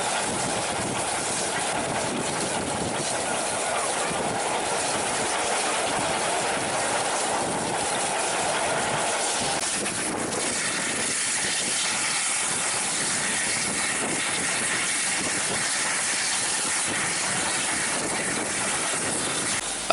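A preserved steam locomotive approaching Toddington in the Cotswolds, running steadily with broad hissing and chuffing, a constant loud rumble that shifts slightly in tone midway, no voices.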